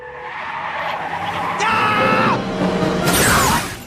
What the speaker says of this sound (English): It's all fun and games until he crashes the car into a lamppost.